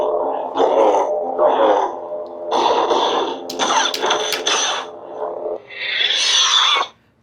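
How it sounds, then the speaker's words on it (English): Smooth and accent swing effects from a Skeleton Crew SE NeoPixel lightsaber by Nsabers, loud, close bursts of humming swooshes with sharp clashing accents, ending in a bright rising swing before cutting to silence. "you can hear the sensitive smooth swing and the accent swing."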